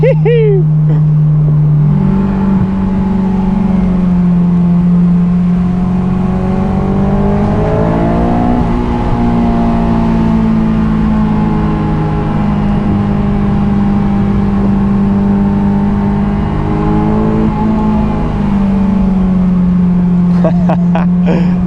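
Honda S2000 engine revving hard on a mountain touge road, a loud, sustained high-pitched wail that climbs and dips through gear changes for about twenty seconds, with a person's voice talking over it at times.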